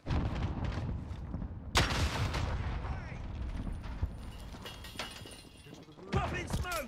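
Gunfire in the battle-royale shooter Warzone, several sharp shots and bursts, loud and close, with a heavy blast near the start and another volley near the end, under overlapping voices.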